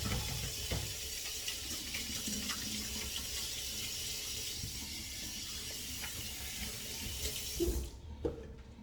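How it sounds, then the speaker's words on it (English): Hands being washed under a running kitchen tap at a sink, a steady close hiss of flowing water that splashes unevenly and cuts off near the end. "Let me wash my hands as well."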